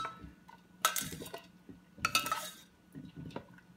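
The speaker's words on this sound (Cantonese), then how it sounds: "而家我哋就加啲糖漿落去，撈勻佢。" Spoon clinking and scraping in a pot as syrup is stirred into a bird's nest dessert with red dates, a few sharp metallic clinks between soft stirring sounds, close but quiet.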